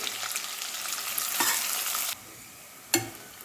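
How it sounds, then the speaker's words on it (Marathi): Finely chopped onions frying in a pan for veg pulao, a steady sizzle with a couple of stirring scrapes, then quieter sizzling and one more clatter of the spoon. "आपला कांदा छान फ्राय झाला आहे"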